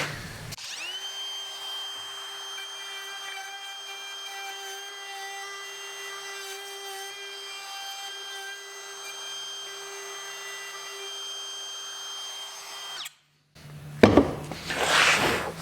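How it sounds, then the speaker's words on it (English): A router cuts a mortice latch faceplate housing through a jig, a steady high whine running for about thirteen seconds before it stops abruptly, followed by a brief burst of scraping noise. "you can hold this jig by hand and router it without any troubles whatsoever"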